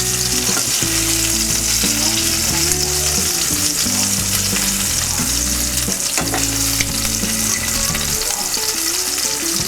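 Prawns frying in hot oil for a Bengali dahi prawn dish, a loud, steady sizzle running throughout with scraping and stirring clatter over it, and no voices.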